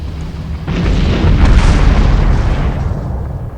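A hyperspace gate explodes in the space strategy game Homeworld 2 with a loud, deep, rumbling boom that swells and rolls on for several seconds before easing off.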